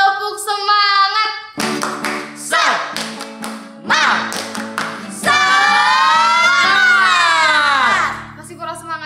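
At a Sunday school service, children chant a rhythmic 'tepuk semangat' routine, their sung voices punctuated by sharp bursts of synchronized clapping, ending in a long held shout.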